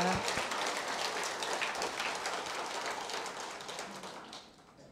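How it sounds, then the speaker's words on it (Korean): Dense clapping from an audience for a choir, steady at first and then tapering off toward the end, heard from a moderate distance. "다시 한번 합창들에게 큰 박수 보내드립니다"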